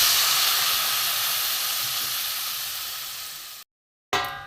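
A loud burst of hiss and steam as water is poured onto spices frying in a pan for a bitter gourd and fish roe curry, fading gradually, then cutting out and returning briefly.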